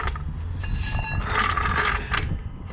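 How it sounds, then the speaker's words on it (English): A trolley jack is rolled and positioned under a 2003 Volvo XC90, giving a continuous close mechanical rattle and clunk of wheels and metal parts for a few seconds. "So I'm going to move my trolley jack in the middle."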